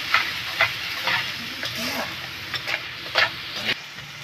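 Spice paste with red chilli powder and salt sautés in a pan for a fish curry, hissing and sizzling steadily while a utensil scrapes through it in short, repeated strokes. Nothing else competes with the frying.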